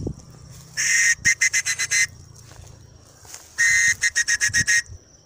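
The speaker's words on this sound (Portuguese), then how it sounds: "vou pegar nosso apito para chamar a atenção dos nossos filhotes" A series of sharp, high whistle blasts calling puppies, in two bursts, each a long blast followed by several quick short toots, loud and close.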